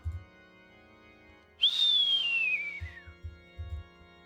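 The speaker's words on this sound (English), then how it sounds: "Lambda Delta whistled and grinned." A single bright descending whistle from the visual novel game Umineko When Seagulls Cry, a clean tone sliding downward for about a second and a half, set against soft low background music.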